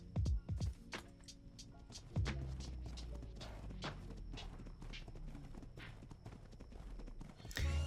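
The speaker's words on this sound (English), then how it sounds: "I guess I got a horse down here." A horse in the survival game Ragnarok, set in Scotland, clip-clops on hooves in a steady walking rhythm, close and clear throughout, with no talk over it.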